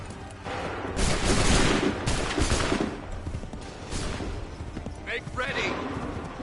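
Musket volleys crackle in Assassin's Creed 3, a ragged fusillade of overlapping shots in two bursts under a steady battlefield din, with shouted voices mixed in.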